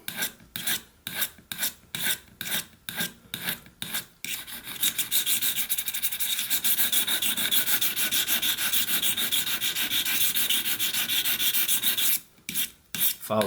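A whittling knife edge is drawn over an abrasive in rhythmic rasping strokes, a run of short scrapes, then one long continuous grinding rub, then a few more quick strokes, close and clear with no voices.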